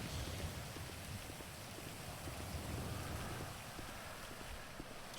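Rain falling in a roleplay video game, a dense steady patter of drops on a surface, constant and fairly close with no talk.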